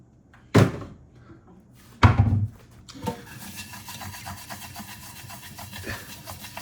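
A dirty pan being scrubbed with baking soda in a single kitchen sink, two sharp knocks, then steady, close, rhythmic scouring that continues to the end.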